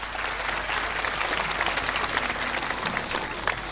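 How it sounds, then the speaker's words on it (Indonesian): Audience at a traditional Balinese comedy performance applauding the gamelan musicians, a dense, even roar of clapping that holds at steady loudness from start to finish. "tepuk tangan untuk penabuh sareng sami"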